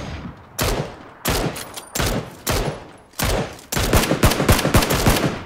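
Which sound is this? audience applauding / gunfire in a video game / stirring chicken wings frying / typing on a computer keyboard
gunfire in a video game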